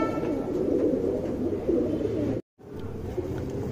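A male Rekhadar pigeon coos close by in soft, continuous low murmuring, broken by a brief moment of silence near the end.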